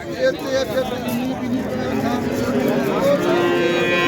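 Cattle moo among a murmur of talking voices and crowd noise at a livestock market in Andijan, Uzbekistan, the low drawn-out calls rising above steady market chatter.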